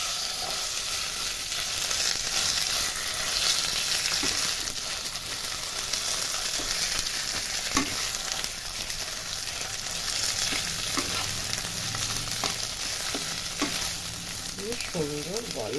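Mustard greens and a little turmeric fry in hot oil, giving a continuous loud sizzle with occasional stirring scrapes and clinks throughout.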